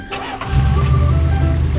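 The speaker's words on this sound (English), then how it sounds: "Truck." Within half a second a truck engine turns over and settles into a steady, close idle rumble.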